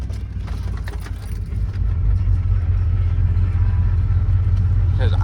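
A Ford F-150 pickup truck cruising in fourth gear, its steady low engine drone and road rumble growing louder after the first couple of seconds and holding constant, with faint rattles over the top.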